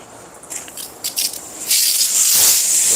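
Shampoo sprays from a self-service wand onto a Tesla Model 3 Performance during a winter hand wash, opening with short hissing bursts and then settling into a steady, close spray.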